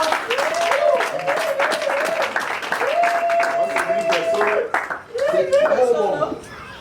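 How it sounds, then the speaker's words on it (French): An audience applauds a bride's mother at a wedding; steady clapping runs the whole way beneath a voice that speaks or sings over it. "Est-ce qu'on peut applaudir pour maman?"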